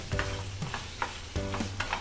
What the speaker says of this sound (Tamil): ஆனியன் நல்லா ஃப்ரை ஆகிட்டுருக்கு